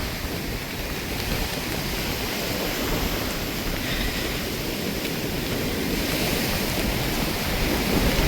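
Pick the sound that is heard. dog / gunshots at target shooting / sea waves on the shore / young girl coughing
sea waves on the shore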